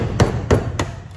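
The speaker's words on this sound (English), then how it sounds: "Since I don't, I'm gonna use my hammer." A hammer strikes three times at an even pace, sharp metallic knocks while breaking copper out of a blower fan, close and loud in a quiet workspace.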